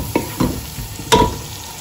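Spices and cumin powder being stirred in a pot over high heat for butter chicken, a few distinct scraping strokes with a faint sizzle underneath, close and alone.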